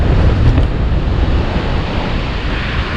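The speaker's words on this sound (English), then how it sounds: "The wind died off, it's back again." Gusty wind blows steadily across an open Dublin shoreline during bass fishing, a broad roaring rush with surf churning beneath, loud and continuous with no talk.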